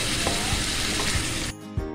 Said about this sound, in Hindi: अब ये मिक्स होगी, ये फ्राई होगी